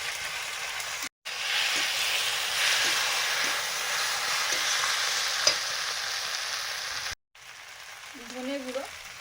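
A paste of turmeric, cumin and mustard frying in a pan gives a loud, steady hiss and sizzle with light stirring clicks, broken by two brief cuts, and a short voice comes in near the end.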